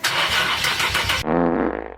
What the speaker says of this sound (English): I started the car a little bit earlier, so unfortunately it's not going to be a cold start